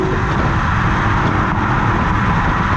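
A BMW X6 50i's twin-turbo V8 roars loud and close at high revs, a dense, steady engine drone held for a few seconds with no talking.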